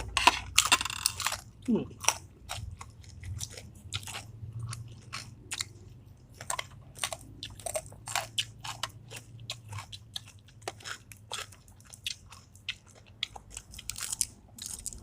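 Close, crisp crunching and chewing of fried chicken and pork rinds eaten with a spicy chili dip and fermented fish sauce, steady rapid bites throughout with a faint voice early on.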